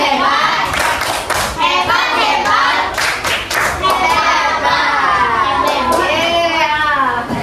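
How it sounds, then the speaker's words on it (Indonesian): A classroom of children claps enthusiastically, dense loud applause that carries on steadily throughout, with kids' voices mixed in beneath. "Beri tepuk tangan untuk kelompok Inggris ya."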